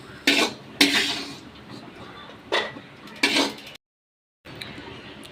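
Fried cashews for rava laddu are scraped from a pan onto a plate, several sharp metallic clinks and scrapes of utensil against cookware, close and separated by short quiet gaps.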